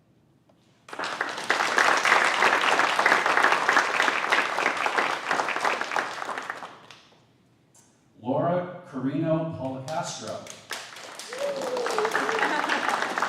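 An audience at a school district board meeting claps loudly for about six seconds, then the applause fades and a speaker talks into a microphone, followed by another burst of clapping that continues under the voice.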